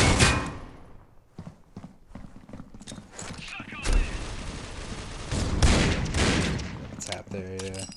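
Gunfire in the mobile shooter Critical Ops comes as short, sharp bursts of shots, separated by quieter gaps and mixed with other game noise.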